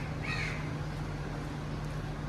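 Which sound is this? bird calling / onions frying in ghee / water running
bird calling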